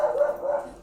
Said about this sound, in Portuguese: desculpa pelo cachorro que tá latindo